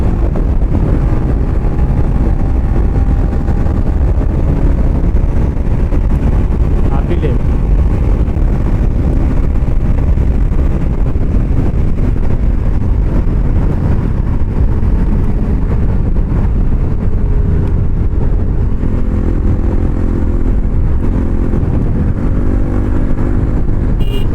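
Scooter ridden fast along the Mumbai-Goa highway, its engine drone mixed with heavy wind rush and road noise, steady and loud throughout.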